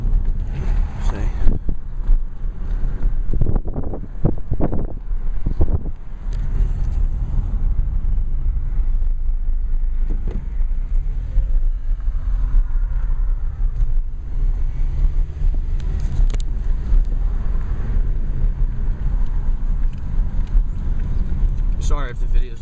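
Car driving through a hurricane-damaged neighborhood after Hurricane Sandy, a constant low engine and road rumble with wind buffeting the microphone and occasional thumps, while someone talks over it.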